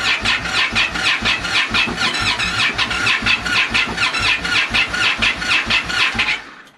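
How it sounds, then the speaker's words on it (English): An Indian Scout motorcycle with a lithium battery cranks repeatedly without firing, a fast, even, loud churning starter rhythm that runs for several seconds and then cuts off. "Bike is still having a hard time starting."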